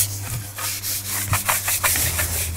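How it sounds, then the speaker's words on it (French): A brush scrubs cleaning product over the battery of an electric mountain bike, giving a run of close, rhythmic bristle strokes with a steady low hum underneath. "Et je frotte ce coup-ci avec la brosse"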